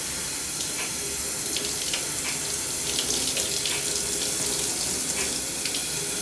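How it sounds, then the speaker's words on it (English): Warm water running from a tap during a hair rinse, a steady close hiss of streaming water with faint splashing variations and no talk. "So I'm doing the warm water first to get most of the product out of my hair"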